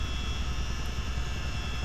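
A helicopter, lighter after dropping its load, flies with a steady loud engine and rotor drone that holds constant throughout.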